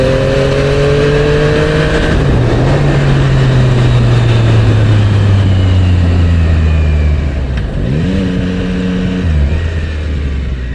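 A motorcycle cruises on an open road early on a weekend morning, its engine droning steadily with gear shifts and revs, loud and close with constant wind rush.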